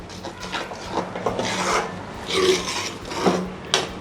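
Gram flour pithla (gheralela pithla) stirred in a pan, a steady close scraping and rubbing of a spoon against the pan bottom, repeated in uneven strokes with soft thuds and no talk.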